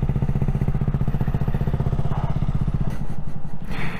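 A Maeving RM1S electric motorcycle, an 11 kW British-styled bike, accelerating on the road with a steady pulsing drivetrain whir and wind rush, close and loud throughout.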